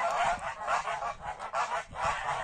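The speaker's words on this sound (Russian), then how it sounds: "Гусики вроде бы в стадо влились." Large geese in a winter farmyard flock honk in a continuous overlapping chorus, loud and close, the calls swelling and dipping in uneven waves.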